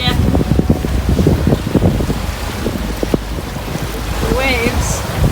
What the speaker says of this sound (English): The waves picked up to, I would say, close to 2 meters.